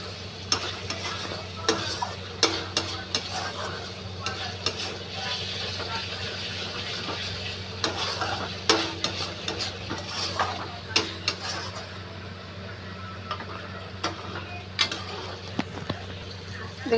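Slit green chillies frying in hot oil with cooked-down spices for a taro leaf dish, a steady sizzle under repeated scraping stirs and light clinks of a utensil against the pan, continuous throughout.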